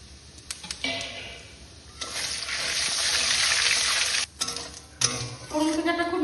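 Cumin seeds, dried red chillies, cardamom and cinnamon hit hot oil in a kadai for a Bengali mutton curry, a loud bright sizzle swelling for a few seconds amid stirring clatter, with brief pauses.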